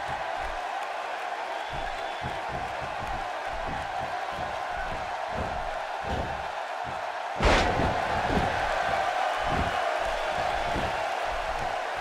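Crowd noise from a wrestling match in the video game WWE 2K16, a steady roar of the arena audience with a sharp slam or thud partway through that lifts the cheering louder afterward.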